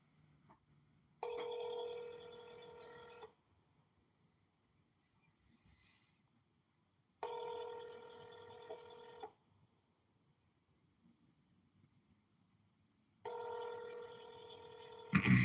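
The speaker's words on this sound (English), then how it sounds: "Please state your name after the tone, and Google Voice will try to connect you." Ringback tones of a Google Voice call trying to connect, sounding as three separate bursts of about two seconds each, spaced roughly six seconds apart, with near silence between them and no talk.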